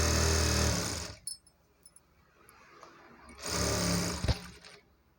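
A sewing machine stitches the lining cloth of a frock at the side joints, running in two loud, close bursts of rapid whirring stitches separated by a quieter pause with a few small clicks.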